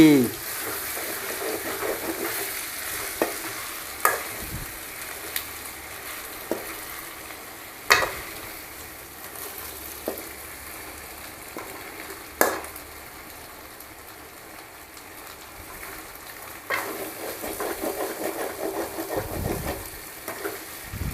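Chicken frying in a pan, sizzling steadily and loudly throughout, with metal-on-pan scraping and knocking now and then as it is stirred.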